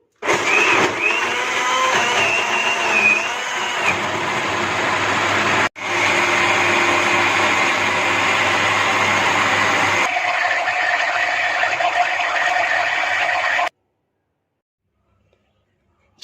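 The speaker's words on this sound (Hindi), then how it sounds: "हाई स्पीड पे इसे ब्लेंड कर लेंगे।" A blender whirs at high speed through a kulfi mixture in its jug, a loud continuous roar that shifts pitch partway and cuts off abruptly near the end.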